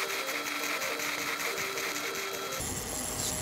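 Stick welding a root pass on steel plate with a 6010 rod, a steady dense crackle and sizzle running continuously throughout, loud and close, with no talk over it.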